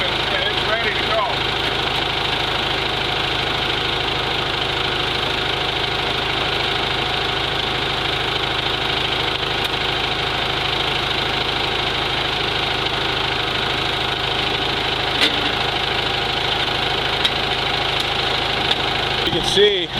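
Mighty Mite bandsaw mill engine runs steadily in gear, a loud continuous mid-pitched drone with a faint knocking texture that holds unbroken for the whole stretch, close by.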